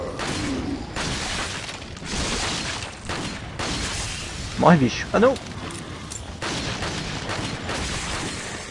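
Gunfire in Resident Evil 4 on PS2 crackles under casual talk, with a couple of sharp louder bursts near the middle and steady shooting noise throughout.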